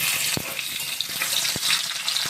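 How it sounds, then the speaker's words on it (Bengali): Boiled potatoes fry in hot refined oil in a wok with a steady, close sizzle, broken by a few sharp knocks of a spatula being stirred through the pan. "সিদ্ধ করে রাখা আলুগুলোকে এবার ভালো করে আমি ভেজে"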